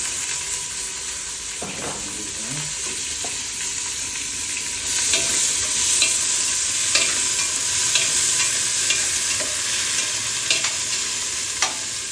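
Onions sizzling in hot oil in a pan for murighonto, with a steady frying hiss and occasional scrapes and taps of a spoon stirring, close and continuous.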